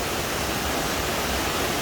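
A tall waterfall on Koh Chang roars as a dense, steady wash of falling water that fills the whole moment, loud and close, with no voices.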